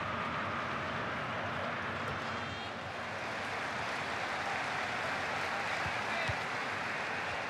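Broadband crowd roar swells steadily through a stadium crowd in a FIFA 15 simulated football match between Inter Milan and Juventus, loud and continuous without a break.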